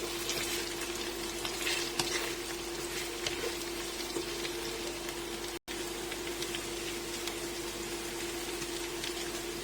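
Capsicum sizzles steadily as it fries with salt for chicken steak with white sauce, a dense, even crackle that runs without a break apart from one sudden dropout partway through.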